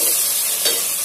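Chopped onion sizzles and crackles steadily in a hot oiled pan while a soya chunks pulao is cooked, a dense close frying hiss with a brief stir near the end.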